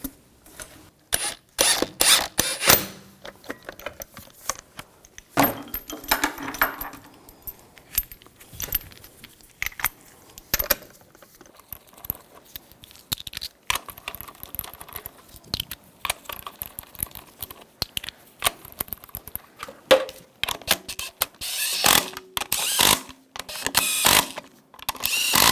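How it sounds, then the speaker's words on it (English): Lug bolts go onto the wheel of a 2000-2006 BMW X5, with loud metallic clinks and jangling, ratcheting bursts scattered irregularly throughout, close up and without talk. "Now put the wheel on, get that lined up, put the lug bolts in,"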